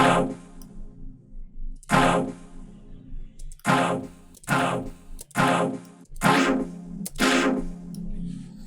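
Short bursts of a robotic, vocoded synth pad tone in an electro house track, sounding like processed speech syllables, pulse in an irregular rhythm with gaps of quiet between them.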